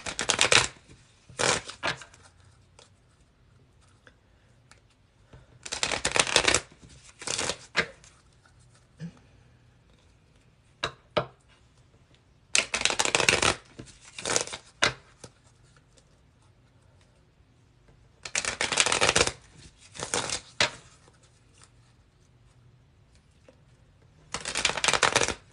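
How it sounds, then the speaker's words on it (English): Playing cards being shuffled for a mock game of 21, heard as repeated bursts of riffling and fluttering, each lasting about a second, separated by quiet pauses and occasional soft taps close by. "I've been sitting here shuffling them."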